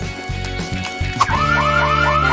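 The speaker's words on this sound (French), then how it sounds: "Sonnez l'alarme." A car alarm blares with repeating rising whoops, loud and steady, after a brief clatter of background noise.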